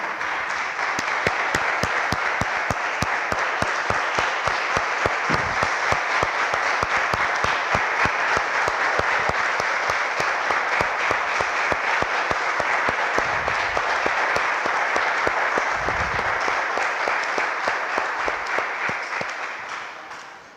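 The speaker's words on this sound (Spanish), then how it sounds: "Le damos un aplauso, hermanos, al Señor" A church congregation applauds in praise to the Lord after a prayer, a long, loud, steady stretch of dense clapping with crisp rhythmic claps on top, slowly fading at the very end.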